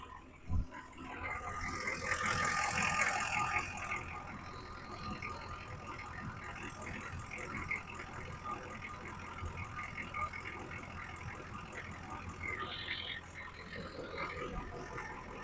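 A 1986 square-body pickup truck's 6.2 Detroit diesel engine idles steadily throughout, a low continuous rumble with faint rattling, briefly joined by a louder burst early on.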